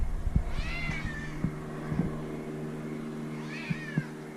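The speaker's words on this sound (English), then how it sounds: "I have this stray cat that's following me around." A stray cat meows twice, a few seconds apart, fairly close, over a low engine hum and scattered clicks near a turbocharged Honda with a K20 engine.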